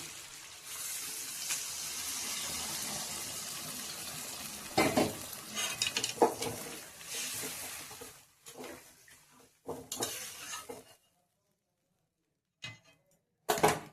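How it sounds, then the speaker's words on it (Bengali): Hot water poured into a pan of boal fish curry sautéing with spices, a steady hiss and sizzle for several seconds, then broken clattery bursts of stirring and pan noise before falling quiet. "গরম জল করা আছে, এটা দিয়ে দেবো গরম জল।"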